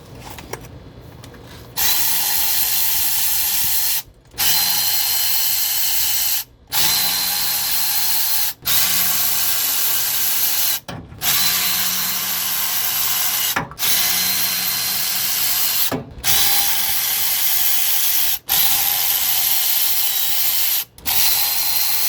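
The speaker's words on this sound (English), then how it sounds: "Now we'll move in with our Milwaukee ratchet and our Icon sockets" A Milwaukee power ratchet fitted with Icon sockets runs on the differential cover bolts of a Ford Dana axle, whirring loudly in long steady bursts with brief pauses between each bolt.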